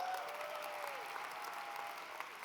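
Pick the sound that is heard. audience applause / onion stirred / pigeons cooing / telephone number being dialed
audience applause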